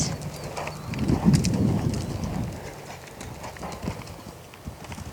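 A horse canters during a show-jumping lesson, with rhythmic clip-clop hoofbeats on an arena surface that swell closer and louder, then fade back, with birds faintly in the background.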